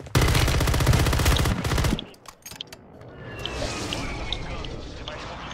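Rapid automatic gunfire bursts loudly in the Warzone video game for about two seconds, then the shooting breaks off into scattered shots and a lingering rumble.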